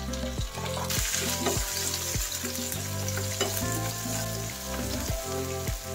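Tomatoes sauté in a hot pan for ginisang sitaw, a loud, close, continuous sizzle with rhythmic stirring knocks and scrapes of a utensil against the pan throughout.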